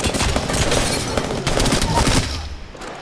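Dense, continuous gunfire from Apex Legends, with rapid overlapping shots filling nearly the whole stretch before easing off near the end.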